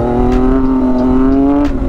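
A BMW S1000RR sport motorcycle engine held at a high steady rev during a wheelie, a loud close tonal whine that climbs slightly before cutting off near the end.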